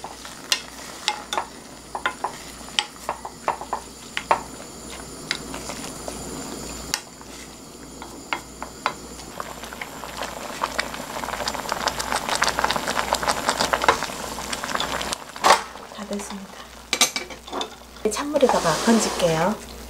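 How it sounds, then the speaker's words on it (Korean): Amaranth greens go into a pot of boiling water, with a steady bubbling roil, scattered knocks and stirring clatter, and busier splashing and churning toward the end. "자, 이제 물이 끓어서요. 나물을 넣을게요."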